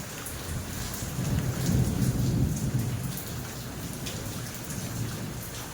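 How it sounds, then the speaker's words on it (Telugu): Heavy rain falls hard in Ongole, a dense close hiss with a deep rolling rumble of thunder swelling through the middle and fading, no voices present. "వర్షం పడుతుంది బాగా ఫుల్గా."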